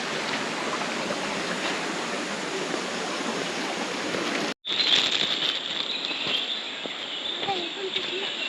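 Water from the Bushi dam falls steadily down a waterfall at Gokundi, a broad continuous rushing roar that fills the whole stretch. It drops out for a moment midway, then returns slightly brighter and hissier.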